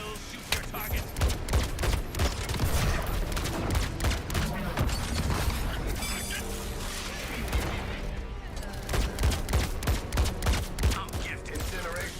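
Gunfire in a video game: rapid, dense volleys of shots and impacts crackle almost nonstop, loud and close, with game voices and other effects mixed in.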